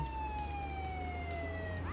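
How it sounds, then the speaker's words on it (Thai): A police car siren in the Contraband Police video game wails steadily with a slowly falling tone, loud and continuous over a low engine rumble, bending upward at the very end. "ขอปิดไซเรนนะครับเนื่องจากว่าอาจจะเป็นการรบกวนกับประชาชนทั่วไปได้นะครับ"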